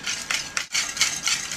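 Vegetable broth, dry red wine, tomato paste and flour whisked together in a medium bowl: quick, bright scraping and clinking strokes in bursts, close and fairly loud, with a short pause midway and no talking.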